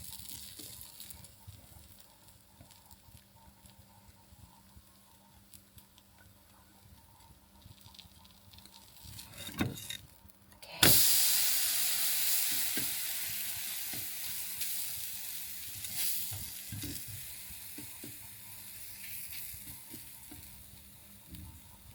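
Vanilla bread toast frying and caramelizing in a pan, quiet stirring and scraping at first, then a loud sudden sizzle that stays steady and gradually eases, close up.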